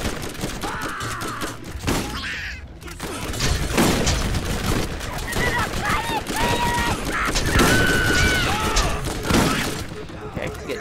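Three-round burst gunfire in the Borderlands video game, weapon shots crackling repeatedly through a busy firefight with impacts and other game sounds, mixed with someone talking over the action.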